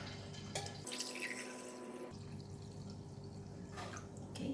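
Pandan water is poured into a 500 ml measuring cup in a kitchen, giving a faint, soft trickle with a brief steadier stream of liquid and a couple of small splashes near the end.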